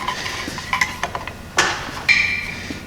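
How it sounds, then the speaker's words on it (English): A metal knockout is snapped off an electrical box for a 3/4 inch EMT conduit hole in a pole barn, giving a few close metallic clicks and a couple of sharper snapping cracks. "I'll wiggle it back and forth and break that off."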